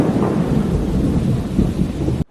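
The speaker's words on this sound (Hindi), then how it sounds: "तभी बहुत तेज बारिश होने लगी" Heavy rain pours down amid rolling thunder, a dense, loud roar that stays steady before breaking off abruptly at the end, with no voices.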